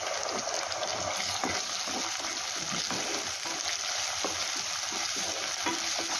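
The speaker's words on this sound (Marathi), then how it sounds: "कांदा छान ब्राऊन कलरचा झाल्यानंतर यामध्ये आपण अद्रक लसूणची पेस्ट टाकून घेऊया।" Browned onion frying with ginger-garlic paste in a pan, a dense, steady sizzle up close with occasional stirring scrapes.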